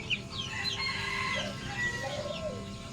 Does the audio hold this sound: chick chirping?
yes